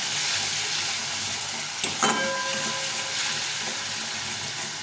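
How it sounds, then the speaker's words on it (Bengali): Turmeric powder, salt and spices sautéing in a pan for a katla fish curry make a steady close sizzle, with a brief metallic scrape of stirring midway; no voices. "আর হলুদ গুঁড়ো, এটা দিয়ে ভালো করে কষিয়ে নেব"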